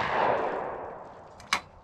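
A gunshot at shooting practice: a booming report fades away, then one sharp, loud shot cracks near the end.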